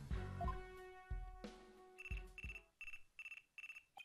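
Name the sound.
phone ringing in video game Ace Attorney Dual Destinies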